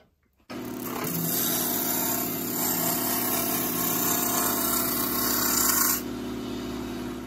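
A lathe motor starts with an abrupt hum and runs steadily while a woodturning gouge rubs its bevel and cuts the wood, adding a brighter hissing whir that drops away near the end, with no talk.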